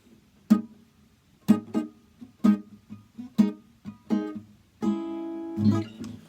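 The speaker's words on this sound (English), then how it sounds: "So remember, the chuck's got to be a sharp sound," Muted, sharp reggae guitar chucks on an electric guitar, a string of short percussive strums spaced about a second apart, the last few ringing out longer, played alone up close.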